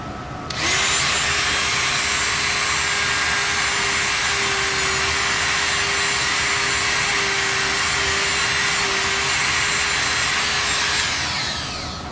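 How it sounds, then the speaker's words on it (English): A Dremel rotary tool buffs the frets of an electric guitar, whining high and steady for about ten seconds. It starts abruptly and winds down at the end, alone and close. "that's why I use the Dremel."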